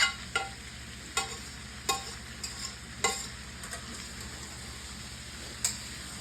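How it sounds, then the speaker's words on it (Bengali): Boiled potato filling is stirred in a frying pan for singara, with a handful of sharp scraping clicks from the spoon over a steady low hum and faint sizzle. "এখন এটাকে আমি ভালো করে মিক্স করে নেব"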